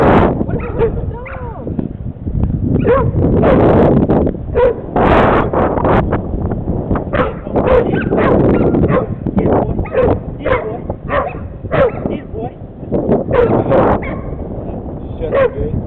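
Hog dog barking in short repeated bursts mixed with whimpers and yips, loud and close with wind buffeting the microphone and voices talking in between.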